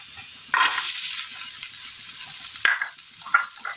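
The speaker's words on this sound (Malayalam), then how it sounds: "വെണ്ടയ്ക്കയിലെ ആ വഴുവഴുപ്പൊന്ന് മാറി വന്നതിന് ശേഷം ഇതിലേക്ക് സബോള അരിഞ്ഞത് ചേർത്ത് കൊടുക്കാം" Chopped okra stir-fried in a pan for a Kerala-style thoran, with a sudden burst of sizzling followed by softer frying and a few sharp scraping stirs, heard alone with no talk.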